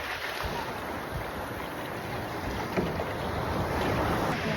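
Strong sea waves slapping around a small boat off Boracay, a constant loud roar of water and wind buffeting the microphone close by, with no break in the wash.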